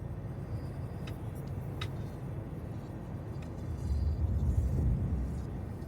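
A spaceship lifts off from a hangar in Star Citizen with a steady low engine rumble that swells louder toward the end, and faint mechanical clicks come through over the hum.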